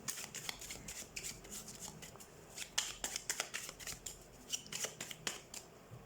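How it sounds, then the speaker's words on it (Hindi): Tarot cards being shuffled for a reading: a run of quick, crisp riffling and slapping bursts, close and fairly quiet, with brief pauses between shuffles and no talking. "तो सबसे पहले हम कार्ड शफल कर लेते हैं।"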